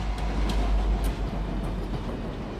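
A Class 59 diesel locomotive runs along the rails, giving a steady, loud low rumble with continuous rolling noise and faint metallic high clicks, no voices.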